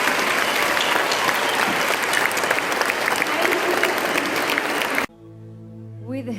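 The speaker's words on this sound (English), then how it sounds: "give Sadhguruji and all the volunteers of Isha Foundation a standing ovation for what they have done" Standing ovation from a large audience at a Save Soil event in Mumbai, with loud continuous clapping for about five seconds before it cuts abruptly to sustained musical tones and a voice.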